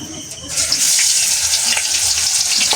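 Loud, bright sizzling and crackling as snakehead fish hits hot oil, starting abruptly after a brief quieter moment and continuing steadily.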